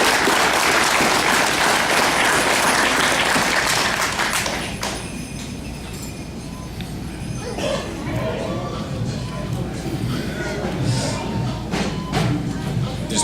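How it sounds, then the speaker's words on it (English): Audience applause at a college graduation ceremony, loud dense clapping at the start that thins after a few seconds into scattered claps, cheers and voices in the crowd. "let's give him a round of applause"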